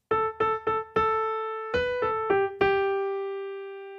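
Piano plays a passage from a song: a run of repeated struck notes on one pitch, then a step down to a lower note struck twice, each note ringing out cleanly with no talking.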